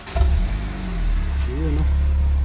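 A car engine is test-fired during an exhaust sound check and revs up loudly close by, then settles into a steady droning idle, with a brief voice heard at the start.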